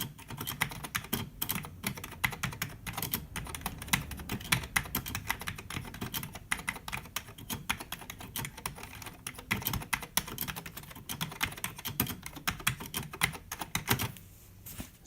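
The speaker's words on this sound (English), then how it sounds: "I'm not even typing real words here." Close, fast typing on a Cherry G81 keyboard with Cherry MY switches, a dense continuous patter of key clacks with irregular rhythm for about fifteen seconds, ending with a brief pause.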